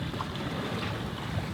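A sailboat out at sea, single-handed, with a steady wash of wind buffeting the microphone and waves rushing past the hull in a constant, even roar.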